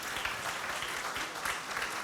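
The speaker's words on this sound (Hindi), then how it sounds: "मैं चाहता हूं तालियां बजाई जाएं" Dense, fairly faint applause from an audience at an award function, a steady wash of clapping with no break.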